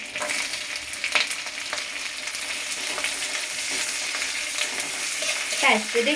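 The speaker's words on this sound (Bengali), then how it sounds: "ফার্স্টে একটু আদাগুলো দিয়ে দিলাম একটু নেড়ে নিয়ে" Chopped ginger sizzles steadily in hot oil in a home kitchen pan, with scraping stirring strokes throughout and a brief clink near the end, no one speaking.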